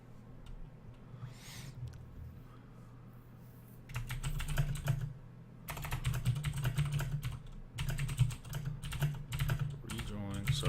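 Rapid clattering keystrokes on a computer keyboard, close and fairly loud, coming in dense bursts over a steady low hum with brief quieter gaps between flurries.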